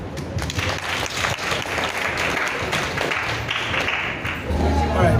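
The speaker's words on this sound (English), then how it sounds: "Please clap for them." Audience applause at a youth leadership training event run by a ministry of youth and social development, dense steady clapping from a crowd lasting several seconds, with a louder surge near the end.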